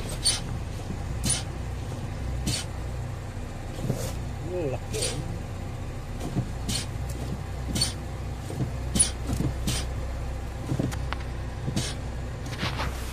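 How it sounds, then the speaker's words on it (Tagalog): A hissing air leak from the brake system of a Toyota Revo as the brake pedal is pressed: short, sharp hissy bursts recur every second or so over a low idling hum, with someone talking at times. "meron siyang sumisingaw tapos malalim pa itong brake pedal"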